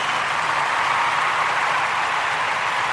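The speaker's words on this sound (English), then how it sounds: "we want to give all of the Ujima born, all of the Ujima babies a round of applause" A dense, steady wash of applause fills the room for the Ujima babies at a Ujima Toast gathering, holding at an even, loud level for the whole stretch with no voices breaking through.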